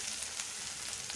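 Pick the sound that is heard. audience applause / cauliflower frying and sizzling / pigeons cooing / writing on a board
cauliflower frying and sizzling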